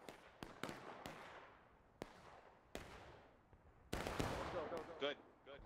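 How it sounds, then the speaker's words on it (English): Musket volleys in the Civil War shooter War of Rights on the Dunker Church map: sharp, echoing shots, some near and loud, others distant, firing irregularly as a line shoots into the enemy flank. "It seems like they're forming a line and shooting into their side."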